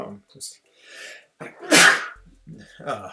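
A single loud, sharp sneeze bursts out mid-commentary during a gaming stream, with someone talking before and after it.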